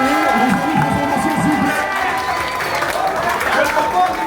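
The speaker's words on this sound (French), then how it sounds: "Un tonnerre d'applaudissements s'il vous plaît pour les arbitres" A tournament crowd cheers and applauds loudly and steadily, a dense wash of clapping and shouting voices with people talking and calling out throughout.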